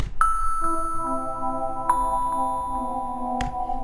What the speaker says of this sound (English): we have like the bells, and then it goes to the Outerland synth